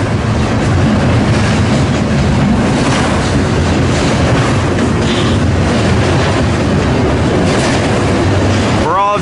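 A Norfolk Southern train rolls through the yard at Elkhart, Indiana, loud and close, with a dense continuous rumble and rhythmic clickety-clack of wagons over rail joints throughout, ending in a brief high squeal.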